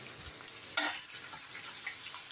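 Onions frying in a pot while being stirred, a steady close sizzle with one brief scraping clink of the spoon early on.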